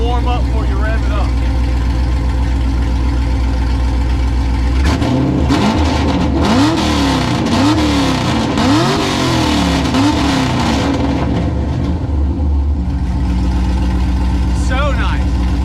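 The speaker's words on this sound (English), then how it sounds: "Give y'all a nice couple cold revs" A Honda Prelude engine idles roughly when cold, then is revved several times in quick rising-and-falling bursts toward 7,000 RPM before settling back to idle, loud and close.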